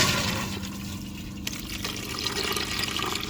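Water gushes and trickles through the waste valve as the toilet flushes in a 2022 Winnebago Travato 59KL camper van, a close, continuous pouring rush with a brief clunk partway through.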